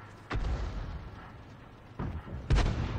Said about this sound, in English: Shells coming in from the hill.